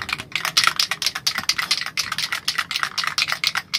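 A spray can of primer, used to repaint a Gundam model kit, is shaken hard. Its mixing ball rattles in a fast, steady, continuous clatter up close, with no voices.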